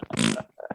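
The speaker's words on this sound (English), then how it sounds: "Did somebody just fart" A loud, short fart bursts out alone, a sputtering blast lasting under half a second, followed by faint murmured sounds.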